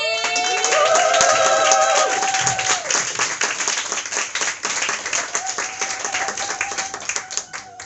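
Loud audience applause and clapping for comedian Nikki Rose at a Funny Women comedy show in Brussels, with whoops over the first seconds and the clapping thinning out toward the end.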